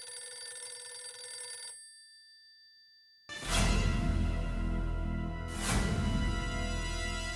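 A telephone rings with a bright electronic trill, stops briefly in silence, then rings again louder and close.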